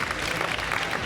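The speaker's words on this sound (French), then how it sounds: "Applaudissements pour Jérémy." A hairdressing show audience applauds the model Jérémy, a short dense burst of clapping from a crowd.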